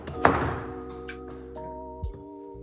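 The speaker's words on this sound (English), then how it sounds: "If these motors drop down when we open the door" Powered running boards on a 2021 Chevrolet Silverado deploying as the truck door opens: a sharp thunk, then a steady motor whine with a rising tone, ending in a soft thud.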